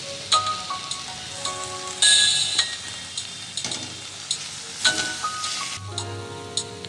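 Tomato puree with chili powder and pav bhaji masala frying in a pan for paneer pav bhaji: a steady crackling sizzle with louder bursts, over soft, sustained musical tones.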